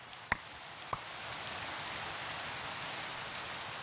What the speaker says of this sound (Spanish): Oh, tío, ¿por qué llueve tanto?